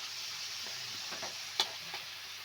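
Onions softening in oil in a pan for onion chitranna give a faint, steady sizzle with a few soft stirring knocks and one brief louder clink near the end.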